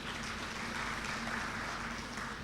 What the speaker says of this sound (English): for the presentation of Dr. Michael Tingego, a hand clap for him